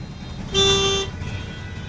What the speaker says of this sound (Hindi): मेरठ की मार्केट।